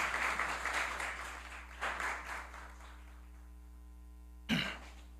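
Applause in a city council plenary session honoring a physical education professor, moderate clapping that fades out over a steady low hum, followed by a single cough near the end.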